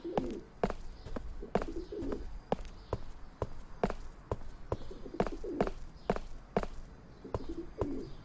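Pigeons coo softly in short, repeated phrases in the game Crowns and Pawns, spread over several seconds against a quiet ambient background and a steady pattern of soft footstep-like taps.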